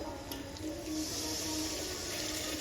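Water poured into cooked-down masala in a pan, heard as a steady, close hissing rush that holds evenly for a couple of seconds with no talk.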